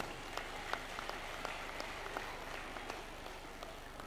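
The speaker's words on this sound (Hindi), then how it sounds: "एक बार राजीविका की बहनों के लिए ताली बजाइए जोर से" A distant crowd at a public gathering in Khandela, Sikar, claps for the Rajeevika sisters, a steady wash of scattered applause heard faintly from afar with individual claps poking through.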